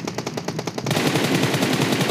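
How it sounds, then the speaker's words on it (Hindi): Rapid automatic gunfire in PUBG Mobile rattles in loud, evenly spaced bursts, first as distinct shots, then thickening into a dense continuous volley. "ये अंधाधुन गोली चला रहे हैं"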